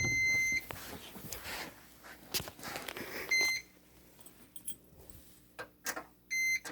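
An alarm system control panel powering up in a basement gives a few short electronic beeps in separate bursts, with quiet handling noise between them.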